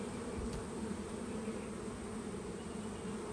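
Honey bees drone steadily at an open hive, a dense, low, continuous buzz of many insects close by with no pauses.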